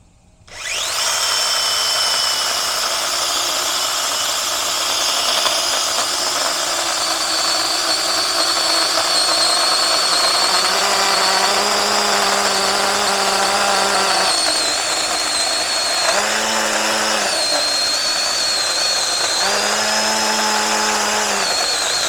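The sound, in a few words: small battery-powered chainsaw (TROOZY Mini 6") cutting wood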